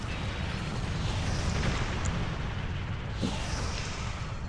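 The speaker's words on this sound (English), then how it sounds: "At least we get to see the pretty explosion." A torpedo explosion in the space combat game Star Trek Online makes a dense, rumbling blast that fills the stretch with a sustained low roar and crackle, loud and continuous with no speech over it.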